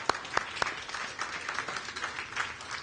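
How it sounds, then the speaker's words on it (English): Audience applause at the inaugural ride of the Dorothy Day Staten Island Ferry, following a champagne bottle christening; a few sharp claps open into moderate, steady clapping from a gathered crowd. "Let's give Martha a big round of applause."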